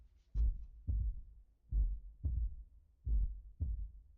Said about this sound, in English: Why is there a heartbeat, bro?